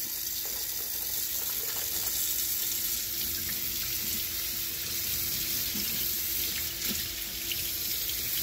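Steady stream of water pouring from a tap into a sink, a constant broadband rush with no voices.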